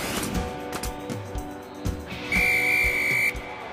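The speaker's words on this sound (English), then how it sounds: "No mistaking that whistle." A single long, shrill referee's whistle blast rings out for about a second, after soft clatter and background noise.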